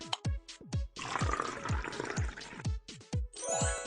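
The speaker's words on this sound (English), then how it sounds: "Pour some hydrogen peroxide in the jar." Liquid pours into a jar in a mobile game as hydrogen peroxide is added, a run of short, rhythmic glugging splashes with a longer continuous pour in the middle, close and clean.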